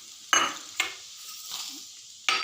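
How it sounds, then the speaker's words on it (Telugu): Peanuts frying in hot oil in a home kitchen, with several bursts of sizzling and a stirring scrape, each surge then settling to a quieter crackle. "ఈ నూనె బాగా కాగినాక ఇవి వేయించుకోవాలి"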